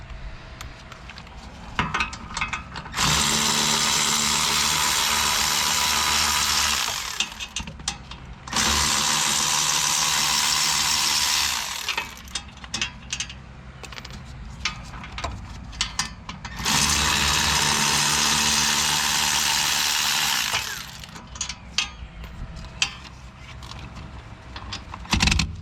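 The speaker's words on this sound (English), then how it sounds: "power tool, zip them off the rest of the way." An impact or power tool zips lug bolts off a 2017 Nissan Murano during rear wheel bearing work, with three long, loud bursts of whirring separated by short pauses and light clanking of tools and parts.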